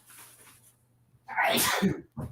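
A single sharp sneeze bursts out loudly, preceded by a faint breathy intake and followed by a short trailing sound.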